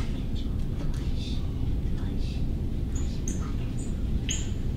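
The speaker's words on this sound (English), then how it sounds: "Those are called flight calls." Several brief, high thin chirps of birds giving flight calls while migrating at night, scattered over a steady low rumble of background noise.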